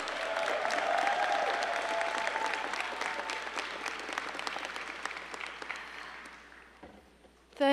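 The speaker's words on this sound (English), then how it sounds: "Bulldogs, let's give Chanel Turner another rousing round of applause." A university matriculation convocation crowd gives rousing applause, loud and dense at first, then gradually thinning and fading toward the end before a brief sound cuts in at the close.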